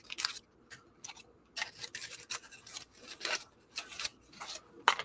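Crinkly plastic wrapper on a Scottish sweet treat being torn open and peeled, close and quiet, in short irregular rustling bursts separated by brief pauses.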